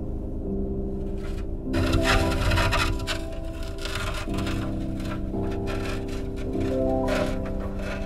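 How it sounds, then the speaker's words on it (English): Chunks of floating ice crunch, grind and scrape along a ship's hull off Antarctica, a steady, loud, close rumbling with harsh sliding textures and deep low-pitched groaning throughout, no voices. "Chunks of frozen water crunching against and sliding down the hull of your ship."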